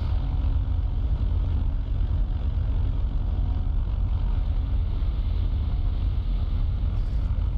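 Seaplane engine droning steadily while taxiing on water in the X-Plane 11 flight simulator, a constant low rumble with a faint airy hiss and no talk.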